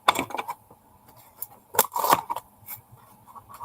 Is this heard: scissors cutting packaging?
yes